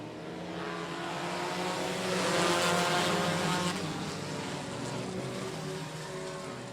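Race cars roar around a short speedway oval during a feature race, a steady loud engine drone that swells toward the middle as the pack passes close, then eases back to a sustained buzzing pull.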